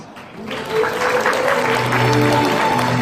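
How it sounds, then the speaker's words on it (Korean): Wedding guests at a wedding hall applaud and cheer as the mothers of the couple enter, the clapping swelling quickly into a sustained, dense round with a faint voice beneath. "여러분 큰 박수로 환호 해주시면 대단히 감사하겠습니다"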